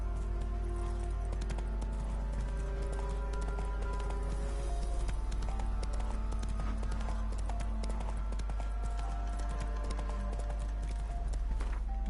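Horse hooves gallop in The Witcher 3: Wild Hunt, a steady rapid clip-clop running throughout, loud and continuous over layered game music and ambience.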